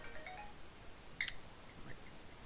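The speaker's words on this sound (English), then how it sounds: "my phone went off again." A mobile phone ringtone chirps in short bright bursts, with a sharper tone mid-way, fairly faint over background hiss and no talking.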